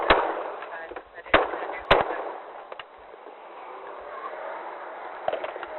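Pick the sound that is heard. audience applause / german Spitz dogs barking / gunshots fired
gunshots fired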